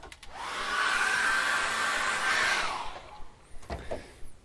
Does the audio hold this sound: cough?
no